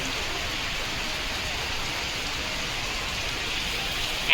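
Steady rain falls continuously, a dense even hiss of drops on surfaces that holds unchanged throughout.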